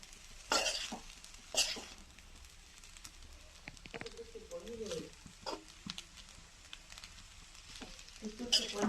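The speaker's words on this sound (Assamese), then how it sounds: "মই এটাখনেৰে ধুনীয়াকৈ গোটেই বস্তুখিনি মিক্স হোৱাকৈ ওলট পালট কৰি" Fried rice with paneer and French beans being tossed and mixed in a pan, a low sizzle under repeated scraping and clattering strokes of the spatula, with some faint talking in places.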